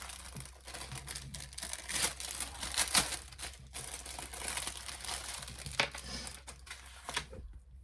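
An AliExpress parcel is opened with irregular crinkling and rustling of its plastic wrapping, the close, bursty crackles coming and going without any talking.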